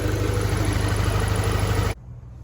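A turbocharged Honda Prelude engine idles at a steady, loud, even drone for about two seconds before cutting off abruptly to a quiet hum.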